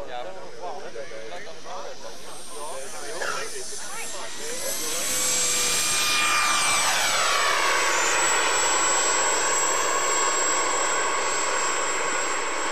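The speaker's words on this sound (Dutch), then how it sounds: "En de turbine die nu gemonteerd staat is een iets krachtere uitvoering dan deze waarmee hij" A 1992 model aircraft jet turbine engine spools up, its whine rising and sweeping upward into a loud, steady high-pitched roar that holds close and continuous, with speech underneath early on.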